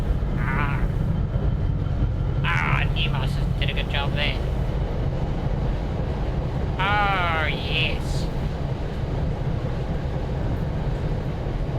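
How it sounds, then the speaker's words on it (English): A passing train makes a constant low, heavy rumble throughout, close and steady, while someone talks intermittently over it. "It's a train."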